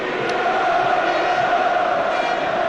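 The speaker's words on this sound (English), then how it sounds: "as they show their appreciation, the crowd, for Roy Keane" A stadium crowd at a football testimonial match for Roy Keane, Manchester United against Celtic, gives a steady, broad roar of applause and cheering that holds at an even level throughout.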